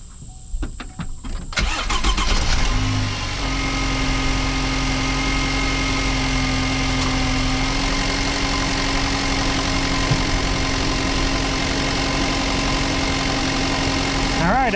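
A Chevy Colorado pickup cranks and fires up after a catalytic converter replacement, a brief whirring start surging loud, then settling into a steady, close rumbling idle with a faint ticking knock, no talk over it.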